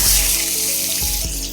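Cubed steak starts to fry in olive oil in a pan, giving a steady, close sizzle with a faint crackle and no voices.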